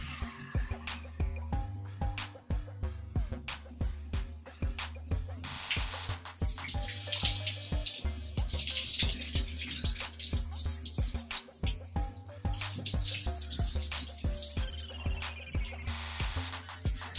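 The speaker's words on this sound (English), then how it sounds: "So we're gonna go ahead and rinse this out." Running water rinsing shampoo out of hair, a soft steady stream with intermittent louder bursts of spray, heard faintly beneath background music with repeated low beats.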